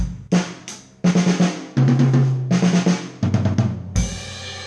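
A rock drum groove with kick and cymbal hits that breaks into a quick fill of snare and tom strokes, ending on a crash.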